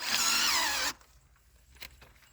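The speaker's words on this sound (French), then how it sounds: "visseuse" A cordless drill fitted with a white brush for cleaning a Mercedes whirs loudly for just under a second, then stops, leaving faint rustles and a brief knock.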